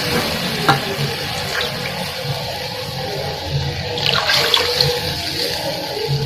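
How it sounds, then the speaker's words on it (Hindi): Water splashes and rushes into a cooking pot for chana pulao with rice and chickpeas, a steady broadband gush that is loud and close, with occasional louder splashes and no talking. "हम किलो पानी ऐड करेंगे, क्योंकि हमने चने भी डाले हैं इसमें"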